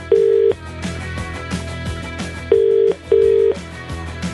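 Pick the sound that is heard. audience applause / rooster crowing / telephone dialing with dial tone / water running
telephone dialing with dial tone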